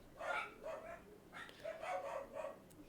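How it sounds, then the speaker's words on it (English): A small dog gives a few soft yips and barks in quick clusters, faint and somewhat distant, with nothing else prominent around them. "Sorry for any little barks you hear there."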